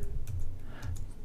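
Keys clicking on a computer keyboard as a web address is typed, with a handful of quick, light taps over about a second, close but quiet.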